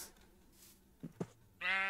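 Goat bleats in Minecraft, two short clipped calls followed by a longer, louder bleat at the end, heard alone against a quiet game background.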